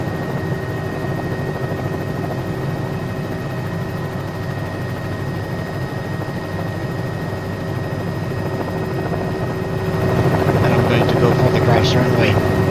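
A simulated Cowan 206 helicopter drones steadily in a flight simulator game, a continuous rotor-and-turbine hum with a constant tone that swells slightly louder near the end.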